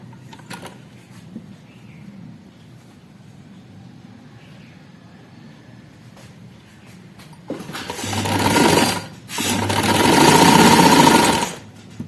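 Sewing machine stitching ribbon onto the seam of an A-line frock, after a quiet stretch of faint handling sounds, it whirs loudly in two steady runs separated by a brief pause, with no talking.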